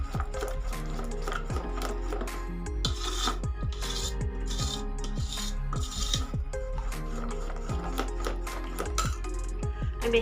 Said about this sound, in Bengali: এক চামচের মতো দিয়ে আমি এটাকে ভালো করে ফেটিয়ে নেব